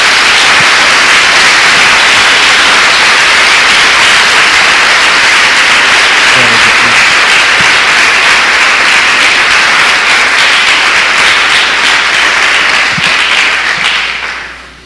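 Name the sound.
congregation applause in church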